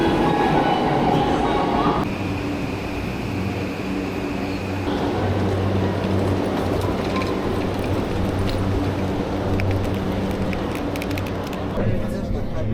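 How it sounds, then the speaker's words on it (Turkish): A Tokyo metro train arrives, rumbling steadily close by with a whining tone and clattering wheels, while a crowd chatters throughout. "Tren geliyor."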